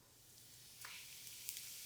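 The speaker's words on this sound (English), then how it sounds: "See how it's just a very slight sizzle?" A faint, steady sizzle of garlic frying in warm oil in a pan, with a few brief crackles and pops rising near the end.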